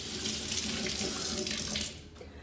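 A household tap runs water for drinking, a steady splashing stream that flows strongly and then eases off just before the end.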